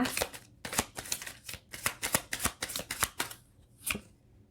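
Tarot cards being shuffled by hand, a steady run of crisp riffling bursts repeating about twice a second, close and fairly quiet with no talking.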